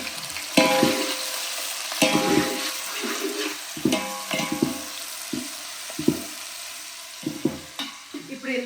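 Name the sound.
onions frying in pan for mutton dalcha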